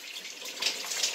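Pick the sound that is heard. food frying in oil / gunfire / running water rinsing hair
running water rinsing hair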